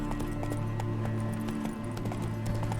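A horse gallops in The Witcher 3, with a steady run of clip-clop hoofbeats over a constant loud game background, no talk.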